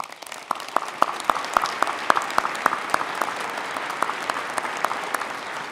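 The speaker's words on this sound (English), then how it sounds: "I'd love to give them a round of applause as well." Warm applause from the crowd at an Oregon Tech commencement ceremony in Klamath Falls, a steady rain of clapping with a few sharp, distinct hand claps standing out near the front.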